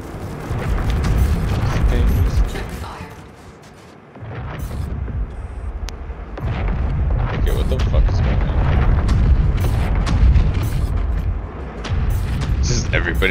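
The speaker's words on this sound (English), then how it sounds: "But he's just shooting at this giant ship." Ships exchange fire in a video game space fleet battle against a giant ship, with dense, rumbling booms and blasts rolling almost continuously under a speaking voice.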